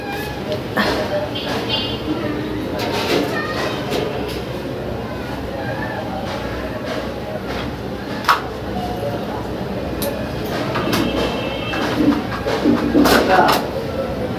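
Soft repeated cooing of pigeons or doves nearby, with a person talking over much of it and a low background hum.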